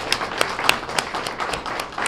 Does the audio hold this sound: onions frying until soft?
no